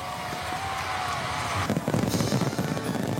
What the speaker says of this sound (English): his speed is exactly matched by the shells bursting above